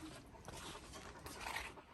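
A dog pants quickly and steadily up close, breathy huffs repeating for a couple of seconds with a faint whimper mixed in.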